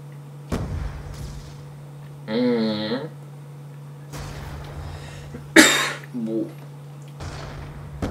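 Several short, harsh coughs come close to the microphone during a Standoff shooter gaming session, spaced irregularly, with brief voices between them.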